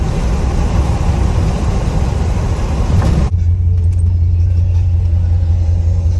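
A vehicle engine fitted with an R10 carburetor swap runs loud and close as a continuous rumble, shifting to a lower, steadier idle-like drone partway through.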